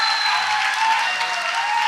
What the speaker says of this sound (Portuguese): Mais aplausos, gente!